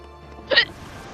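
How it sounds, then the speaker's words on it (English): A single sharp hiccup from a person, brief and close, standing out against quiet room ambience with no speech. "Oh, hiccups."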